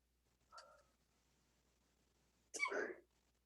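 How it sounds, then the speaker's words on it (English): A single person's sneeze: a faint short intake catch, a pause, then one sharp, breathy burst in a quiet room. "He sneezed."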